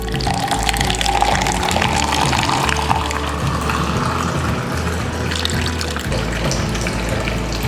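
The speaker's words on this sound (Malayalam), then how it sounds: "അതിനെ ഒരു ഗ്ലാസ്സിലേക്ക് ഒഴിക്കാം." Club soda pours into a glass in a continuous, fizzy liquid stream, loud and close, lasting the whole stretch without talk.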